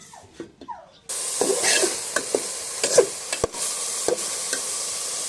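A spoon stirs a coconut milk mixture in a pot on a medium-low gas flame, a soft continuous hiss with light scraping clicks at irregular intervals after a few quick knocks at the start.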